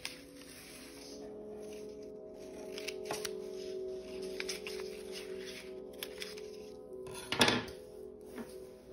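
Scissors snip paper antennae for a craft caterpillar, with quiet close cutting and rustling, a few sharp snips and a louder paper crinkle near the end.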